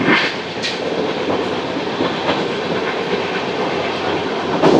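The Golconda Express (Guntur to Secunderabad) runs with a steady loud rolling roar and rhythmic clickety-clack over rail joints, with occasional sharper knocks.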